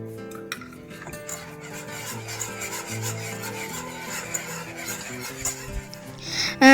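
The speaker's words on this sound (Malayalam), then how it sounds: "ഞാനിത് അഞ്ച് മിനിറ്റായിട്ട് ഇളക്കിക്കൊണ്ടിരിക്കുവാണ്" Spoon stirring thick banana rice halwa with ghee in a pan over low flame, giving a steady scraping and rubbing sound that continues throughout, close and moderately loud, with no speech.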